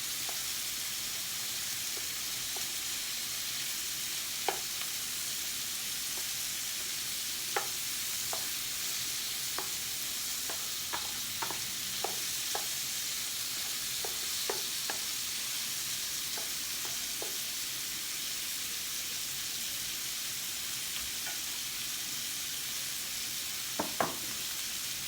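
Mixed meats frying together in a pan for combination fried rice, a bright steady sizzling hiss punctuated by scattered light taps and pops of stirring, with no voices.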